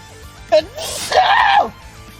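A single loud human sneeze during casual Tekken gameplay chatter: a quick sharp intake followed by a strained, drawn-out burst lasting under a second, heard up close.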